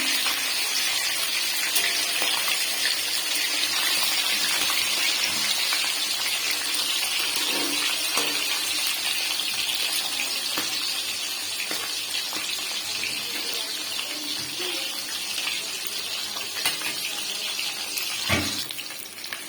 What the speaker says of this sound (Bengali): এখন আমি এই তেলের মধ্যে আস্তে আস্তে মাছগুলো ভেজে নেব।